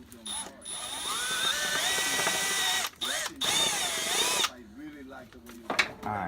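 A power drill runs in long, steady bursts while deburring the back side of a drilled hole during a push-to-start button install in a turbo LSX GMC Canyon, with brief pauses and some talk near the end.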